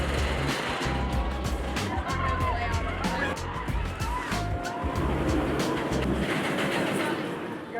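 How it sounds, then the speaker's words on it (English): The Wildcat roller coaster at Hersheypark rumbles past and slams into its brakes with a loud grinding, screeching rush. People talk nearby over the clatter. "I love when it slams into the brakes like that."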